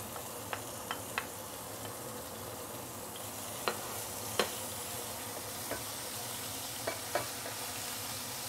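Garlic sautéing in a pan with taoju added, giving a steady broad sizzle with scattered sharp pops and crackles throughout.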